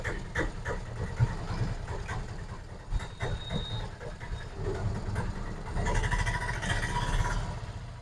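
An Ape auto rickshaw engine with gear-slipping trouble runs in first gear, producing a continuous rattling, clattery rumble for several seconds that grows slightly rougher toward the end.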